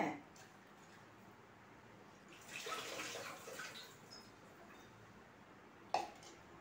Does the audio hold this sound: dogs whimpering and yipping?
no